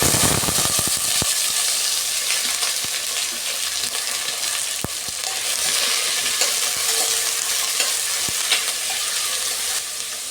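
Chopped onions with fennel seeds, cinnamon, cardamom and cloves frying in an oiled pan for mutton kurma, a loud steady sizzle broken by scattered clinks and scrapes of stirring, no voices.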